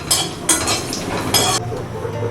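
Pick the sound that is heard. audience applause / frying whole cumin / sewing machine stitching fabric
frying whole cumin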